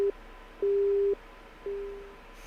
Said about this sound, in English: buzz of the dropped call echoed, I stared at my cell phone.